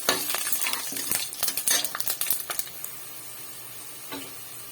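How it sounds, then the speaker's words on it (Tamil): A handful of garlic sautés in oil in a pressure cooker pot, with a soft sizzle beneath repeated metal spoon scrapes and clinks that grow busy and then fade to a quieter hiss. "பூண்டு கொஞ்சம் நல்லா சேர்த்து எண்ணெயிலே நல்லா வதக்கி விடணும்"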